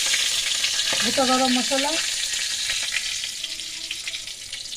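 Whole spices, including bay leaf and garam masala, sizzle and crackle in hot oil while being tempered for a pangash fish curry. The steady frying hiss runs throughout, with a brief spoken voice near the start.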